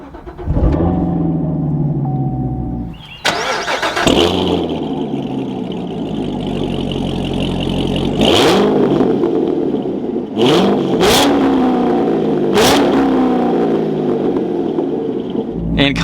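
Chevrolet Corvette C7 Z06 with a manual clutch cranks and fires up near the microphone, then settles into a loud rumbling idle broken by several sharp throttle blips and revs that rise and fall, with no talking.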